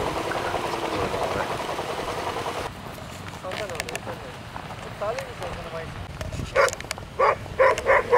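A dog barks in several short bursts near the end, over a steady engine hum, after a stretch of outdoor noise and murmuring voices by a river with cattle in Iran.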